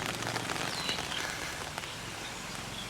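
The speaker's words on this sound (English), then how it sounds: "Bit of a rainy day today." Rain falls steadily on a rainy day in Teluk Bahang, Penang, a soft continuous patter of drops on surfaces, moderately faint, with no talking.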